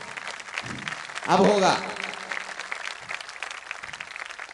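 Audience clapping at a Hindi poetry recital by a poet, a steady spread of applause running throughout beneath a man's loud, declaiming voice.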